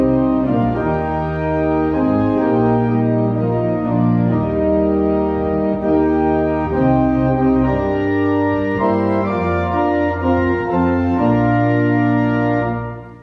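The hymn God of the Ages, Whose Almighty Hand, played on a sustained keyboard instrument for about thirteen seconds, with full steady chords moving from phrase to phrase at an even level before the final chord ends.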